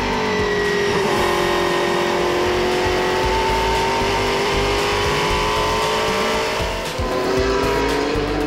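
Sauber Mercedes C11 Group C race car at speed during a historic race at Spa, its engine a loud, sustained high-revving drone with rising and falling pitch sweeps, close and continuous, with a brief dip near the end.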